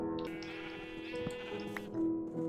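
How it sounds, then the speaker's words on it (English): Minecraft sheep bleat in short wavering cries, a couple of calls rising over quiet game music and ambient sound. "Alright, so we can add in the sheep now."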